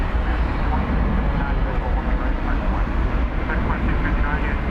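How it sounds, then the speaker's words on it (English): A Frontier Airbus A320 airliner at DFW Airport gives off a loud, steady broadband jet roar that holds evenly throughout, with no voices. "It's an Airbus A320"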